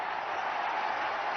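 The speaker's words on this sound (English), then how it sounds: "And this crowd will give him the generous applause that he deserves, as do the Australian players." Cricket crowd at an India versus Australia test match applauding a batsman's half-century, a steady, distant wash of clapping through a broadcast.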